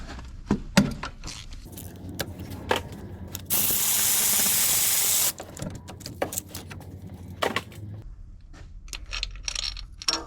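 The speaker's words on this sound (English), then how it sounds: "Break them free with my hand ratchet first and then spin them out with the electric ratchet" On a Mini Cooper, an electric ratchet spins out E14 reverse Torx bolts. A nearby mechanical whir runs for about two seconds among scattered clinks and clanks of tools and metal parts.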